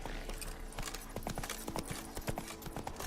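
Hooves of Roach, the horse in the video game The Witcher 3, clip-clop in a brisk, uneven rhythm over low in-game ambience for a few seconds.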